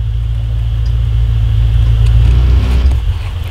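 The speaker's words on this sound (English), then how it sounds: "my husband's out working on cars again today" A car engine runs close by while someone works on cars at home, a loud, steady low rumble that holds throughout, with a faint mechanical rattle rising briefly near the end.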